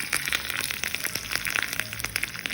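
Cumin, mustard seeds, red dry chilies and curry leaves fry in hot oil for a carrot chutney tempering, giving a close, dense crackle of rapid pops and spits over a steady sizzle throughout.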